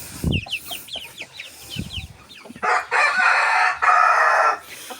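Dong Tao chickens give scattered clucks nearby, followed by a rooster crowing loudly twice in quick succession, with no talk.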